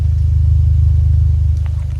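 A Skoda Octavia vRS 245 with a straight-pipe exhaust and its rev limiter removed idles loud and close, its low engine note pulsing in a fast, even rhythm that stays steady throughout.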